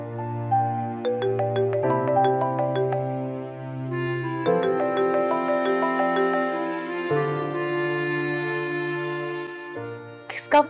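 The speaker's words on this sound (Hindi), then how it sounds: "किसका फोन है?" A phone rings with a melodic tone playing a repeating tune, steady and fairly clear for about ten seconds before it stops.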